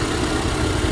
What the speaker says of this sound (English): Inline six cylinder engine,